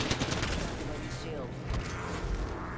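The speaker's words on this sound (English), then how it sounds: "Shots." Gunfire in a multiplayer shooter with light machine guns, a dense rattling volley that runs steadily under talk, moderately loud and continuous.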